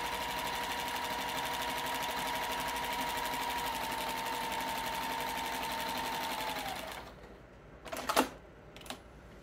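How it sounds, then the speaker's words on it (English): A sewing machine stitches steadily across fabric in a fast, even mechanical whir for several seconds, then stops, followed by a couple of short clunks and rattles. "back tack a little and stitch my way across the fabric"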